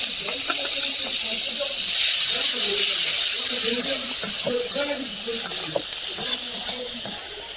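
Crushed garlic frying with chopped onion and spices in oil sends up a loud, steady sizzle, with a person talking over it throughout.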